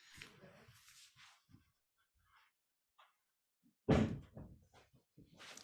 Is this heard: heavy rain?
no